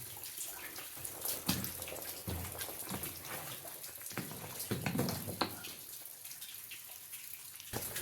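Water pouring and splashing steadily near a small doorway in an underground space, a continuous rushing wash with scattered drips and splashes, fairly close and without talk.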